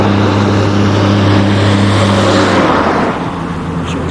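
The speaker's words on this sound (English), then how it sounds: "as you can see, we still have some truck traffic." Truck traffic on a concrete highway, heard from the roadside: a loud, steady engine drone with a strong low hum that fades somewhat near the end as a vehicle moves away.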